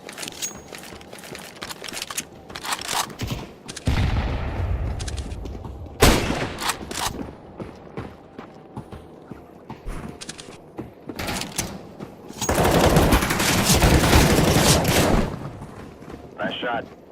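Counter-Strike gunfire rings out as sharp pistol shots and quick bursts scattered through the round, with louder rattling volleys near the middle and end, mixed with game clatter and occasional voices.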